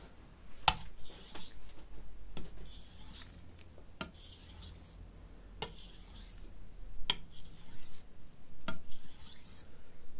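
Repeated rasping strokes of a chef knife on a whetstone, steady and rhythmic, with a few sharper scrapes, close up and fairly quiet.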